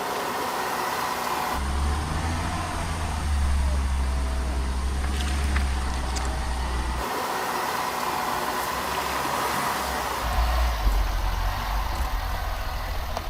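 An off-road vehicle on 35-inch tyres crawls up a slope in low range. Its engine gives a steady low drone that swells and drops as it climbs, with faint rattles over continuous outdoor noise.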